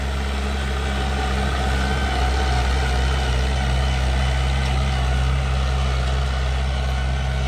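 A tractor engine, a YTO Eco Master 404 or Massey Ferguson 240, runs steadily close by with a loud, constant low diesel drone and no break or speech.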